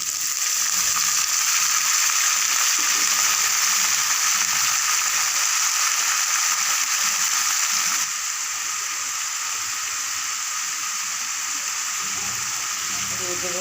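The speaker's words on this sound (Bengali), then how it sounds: "আর এখানে গাজর লাউর খোসা আর ফুলকপি এগুলো আমি ভাজি করে নেব" Carrot, bottle gourd peel and cauliflower frying in a pan, a loud, even hiss that carries on unbroken and eases slightly partway through, with faint stirring scrapes underneath and no talking.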